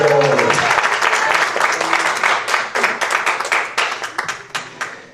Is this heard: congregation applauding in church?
yes